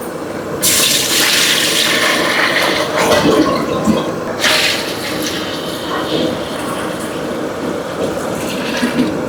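Water pouring into a large cooking pot meant for 2.5 kg of rice for sontannam, a loud rushing gush that surges twice and keeps splashing steadily throughout, without speech.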